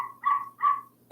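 Two short, muffled dog barks come in quick succession from a Google Home speaker, small and tinny against a quiet room.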